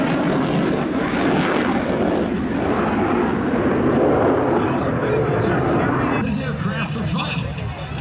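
An F-35C Lightning II fighter jet flies by, trailing heavy vapour, with a loud sustained jet roar that fills the air and then recedes. A commentator talks over it.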